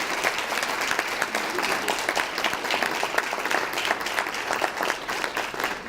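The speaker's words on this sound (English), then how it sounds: "Let's give them a round of applause right over here." An audience at a 2016 scholarship reception gives a full round of applause, a dense, continuous patter of many hands clapping at a steady level for several seconds.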